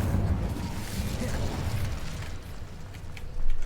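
Confringo and Incendio spell blasts from the Hogwarts Legacy video game, a continuous rumbling, fiery roar of magical explosions that stays loud throughout and swells at the end.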